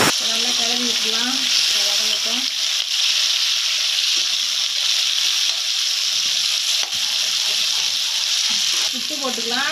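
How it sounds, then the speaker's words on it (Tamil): Chana dal, green chilies, garlic and onions frying in a pan while being stirred: a steady, loud sizzle with scraping stir sounds throughout, and a voice heard briefly at the start and end. "பச்சை மிளகாய் போட்டுக்கலாம், பூண்டு போட்டுக்கலாம், வெங்காயமும் போட்டுக்கலாம். நல்லா கிளறி விட்டுக்கலாம்."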